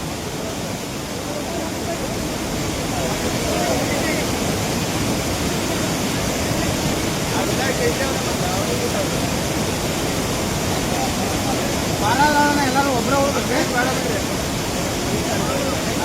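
Heavy rain-fed floodwater rushes and roars over a waterfall near Yellapur without a break, a loud, dense wash of noise with faint voices briefly audible underneath.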